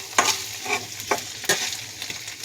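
A packet of spice mix fries with garlic and ginger in a pan, giving a soft sizzle. Scraping stirs from a utensil punctuate it at irregular moments, and no one speaks.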